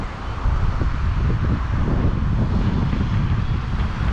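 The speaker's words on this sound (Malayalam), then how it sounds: "നല്ല തണുത്ത കാറ്റ് കേട്ടോ ഇവിടെ നിന്നാ." Cool wind rushes steadily across a viewpoint above the old Mumbai–Satara highway, a loud continuous low roar of buffeting air with no talking.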